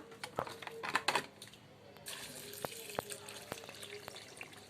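Water is poured from a glass into a blender holding falsa berries and sugar: a few sharp clicks and knocks give way to a soft, steady splashing pour, fairly close and moderately quiet.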